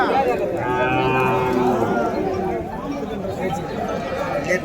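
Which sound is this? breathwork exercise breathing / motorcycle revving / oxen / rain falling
oxen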